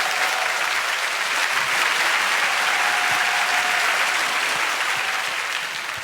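A studio audience at a KBS WORLD TV music show greets a singer with steady, full applause that holds evenly throughout and eases slightly at the very end.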